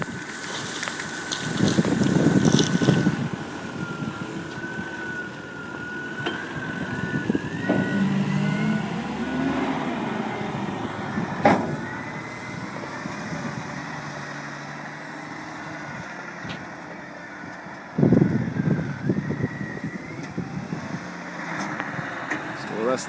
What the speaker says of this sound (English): With this loader we can load anywhere on the property onto the big trucks.